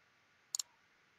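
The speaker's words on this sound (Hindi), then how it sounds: "एक्सट्रैक्ट हेयर के ऊपर क्लिक करेंगे तो" A computer mouse gives a quick double click, two sharp, close taps in rapid succession against an otherwise quiet background.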